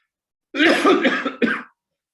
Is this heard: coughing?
yes